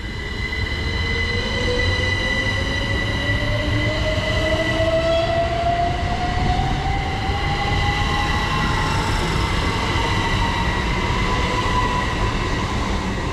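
Thameslink / Great Northern passenger train departing Baldock station bound for London King's Cross, a loud steady rumble of wheels on rail with a rising electric motor whine and faint squeal throughout, no voices.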